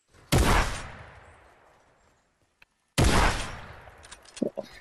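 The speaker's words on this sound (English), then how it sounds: "I'm gonna take two legendary versions of both of these weapons, shoot two people in the head with it" Two loud, booming blasts from a legendary pump shotgun in Fortnite, spaced a few seconds apart, each decaying into a reverberant tail, with a faint click between them and small game sounds after the second.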